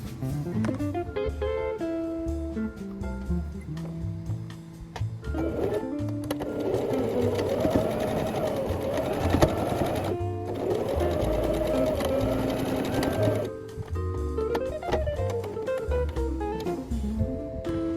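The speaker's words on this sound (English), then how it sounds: "sew along this line for both sides and we are pretty much done with the base." A sewing machine runs steadily for a long stretch, stitching the box corners of a quilt tote bag lining. The motor hum and needle chatter are close and continuous, with music playing underneath.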